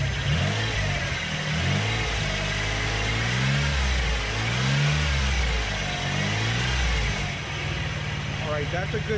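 A 1995 Ford SHO engine, fitted with a new alternator, idles and then swells in a few repeated revs, rising and falling in pitch as the throttle is blipped.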